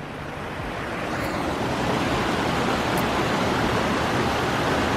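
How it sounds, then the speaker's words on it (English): Several creeks merging into Little Narang Creek on the Warrie Circuit in Queensland, a steady, full wash of flowing water that holds constant and close throughout, with no voices. "This is where numerous different creeks all come together to form the Little Narang Creek"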